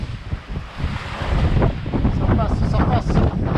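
Strong wind of about fifteen knots buffets the microphone on a sailboat crossing from Gambia to Casamance, loud gusty roaring mixed with water wash and a voice speaking underneath.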